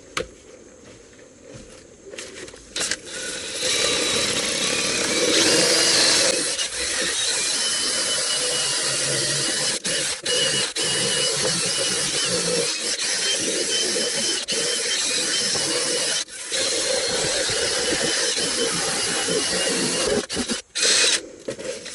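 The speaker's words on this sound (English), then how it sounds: "then we're going to go to town with that drill." A power drill spinning a bottle brush, scrubbing car cup holders loudly and steadily with brief stops and restarts, close by.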